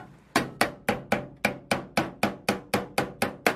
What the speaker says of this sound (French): ça va bien aller à clouer